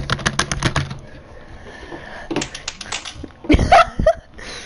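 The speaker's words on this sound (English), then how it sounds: "you've got a MIF keyboard. I can hear it." A loud mechanical computer keyboard clatters in quick bursts of sharp keystrokes, with pauses between flurries and a few louder clicks and knocks near the end.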